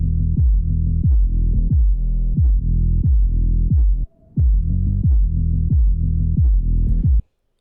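A heavy, throbbing electronic bass line from an EDM mix pulses in a steady rhythm, slightly gritty and distorted, with a short gap midway before it resumes.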